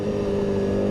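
A KTM Duke 990 motorcycle pulls away with a steady, loud engine drone close by, the tone holding even across one brief second.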